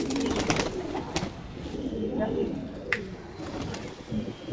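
Madras pigeons coo softly in low, throaty murmurs amid outdoor background noise, with occasional faint clatter.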